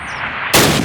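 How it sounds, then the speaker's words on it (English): A Springfield rifle in Call of Duty fires once at a training-camp target: a loud, sudden crack that cuts in after a brief hush and rings out with a short tail. "Grab up a Springfield rifle from the table, switching it for your carbine. Turn to the left, move to the fence, and fire 2 rounds at your target."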